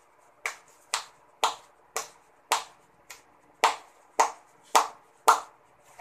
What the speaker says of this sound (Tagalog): Magbigay tayo ng 10 palakpak.